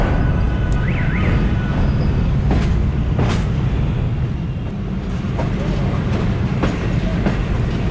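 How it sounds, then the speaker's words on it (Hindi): The Allama Iqbal Express slows on the approach to Lahore Junction, with a steady low rumble of rolling carriages, rhythmic wheel clatter and a few sharp metallic squeaks, loud and close throughout. "और स्पीड ट्रेन ने स्लो करना शुरू कर दी है"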